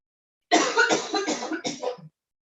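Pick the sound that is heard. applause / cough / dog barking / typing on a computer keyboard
cough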